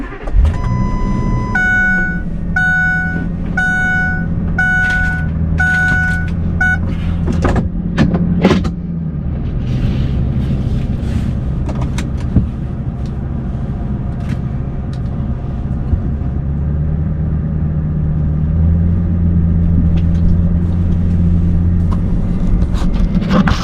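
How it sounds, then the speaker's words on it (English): Vehicle fitted with a Sterling 10.5 inch differential on a test drive, a continuous close engine and drivetrain hum with steady low drone, several rapid beeping chimes early on, and scattered clicks and knocks. "take this thing for a test drive"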